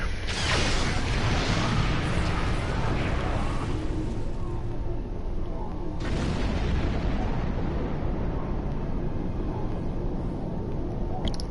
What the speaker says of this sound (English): Light cannon barrage.